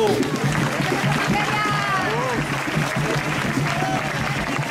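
Applause from a gathering at a María Lionza ritual, a continuous wash of clapping with voices talking, calling and whistling over it.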